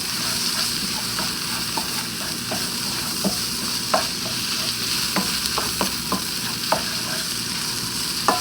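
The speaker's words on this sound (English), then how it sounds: "You want that flour to really cook in." Flour cooks in a frying pan for an enchilada casserole, a steady close sizzle broken by repeated scraping strokes of a spoon stirring, with no talking.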